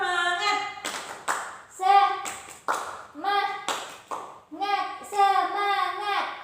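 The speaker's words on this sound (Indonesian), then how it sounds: "ada baiknya kita tepuk semangat dulu supaya kita tambah semangat ya" A group of schoolchildren does a tepuk semangat cheer, rhythmic bursts of hand clapping broken up by shouted chanting voices, close and lively, several clapping rounds across the stretch.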